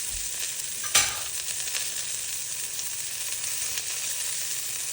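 Four slices of bacon sizzle steadily in a pan, a dense continuous crackle and hiss with one brief louder pop near the start, close up and without talk.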